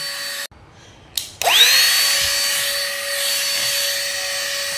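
A small rechargeable handheld vacuum cleaner switches on with a rising whine and keeps running at a steady, close, loud pitch after a brief silent start.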